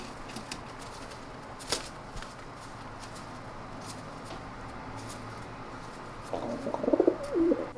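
Pigeons coo softly in low, throaty bursts near the end, over a faint background hum with occasional light taps and rustles.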